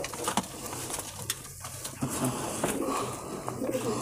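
Breeding pigeons coo in low, throaty, overlapping calls, fairly close and steady, amid background clatter and faint voices, with male and female birds kept together for sale.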